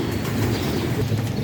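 Teddy pigeons in a loft give low, soft coos over a steady background murmur of many birds, close and continuous, with no talk.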